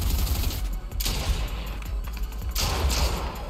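Dense, rapid gunfire from a Fortnite match crackles loudly and continuously, with heavier bursts swelling near the start and again toward the end, no voices over it.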